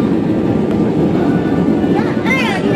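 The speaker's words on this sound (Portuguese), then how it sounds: "O avião nós estamos é, pousando agora." A passenger airplane landing at Florence, Italy, heard from inside the cabin as a steady, loud broadband roar of engines and airflow that continues throughout, with faint voices in the background.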